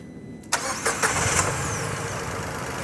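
A 2015 Datsun Go+ with a 1.2 litre engine cranks and fires after a brief quiet pause, gives a few small surges, then settles into a steady, close idle.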